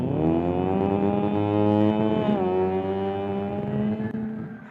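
A voice imitates a vehicle engine, a sustained buzzing drone that rises slightly and slowly fades, close to the listener.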